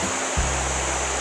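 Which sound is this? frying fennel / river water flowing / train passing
river water flowing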